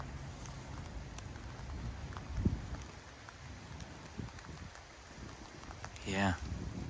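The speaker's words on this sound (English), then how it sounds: "Oh, here comes the rain again." Steady light rain patters throughout in the Netherlands before sunrise, with a brief bird call rising near the end.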